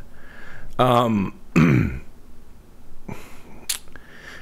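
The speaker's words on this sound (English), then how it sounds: "I keep clearing my throat." A man clears his throat twice in quick, harsh rasps close to the mic, then a softer cough-like clearing follows after a short pause, with no words spoken.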